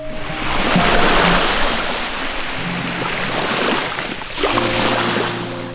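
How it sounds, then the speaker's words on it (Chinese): Winter sea waves washing onto a sandy beach, a continuous loud surf rush that swells and recedes, with wind noise and no talk. "我现在呢带大家去听一下海的声音。"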